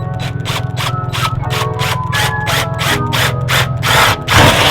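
A power drill bores a hole in the body of a Bugeye Subaru WRX to fit a carbon fiber part, with a steady close whine broken into repeated short bursts and a harder grinding push near the end.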